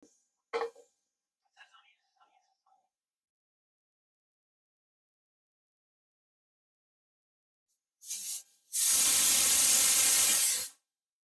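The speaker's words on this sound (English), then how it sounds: "the first burst of steam has just occurred" A pressure cooker cooking red lentil dahl releases a loud burst of hissing steam near the end, preceded by a short puff and scattered faint sounds over long near-silence.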